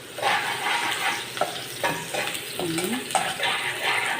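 Onion fries in a hot pan, sizzling steadily and loudly up close while a utensil scrapes and stirs through it in several strokes.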